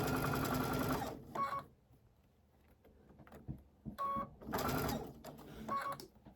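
A sewing machine stitches a curved quilt seam in short, close bursts of rapid mechanical whirring, pausing between runs with quieter handling noises in the gaps.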